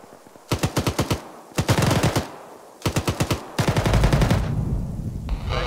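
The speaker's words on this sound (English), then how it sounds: "I still hear shooting back there." Automatic gunfire in a military video game rattles in several sustained bursts separated by brief pauses, loud and close, with no talk over it.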